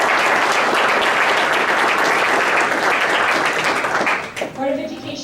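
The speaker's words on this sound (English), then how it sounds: "Can we give them a round of applause?" A room at a Board of Education meeting fills with loud, dense applause that holds steady for about four seconds and then fades. A voice speaks briefly as it dies down.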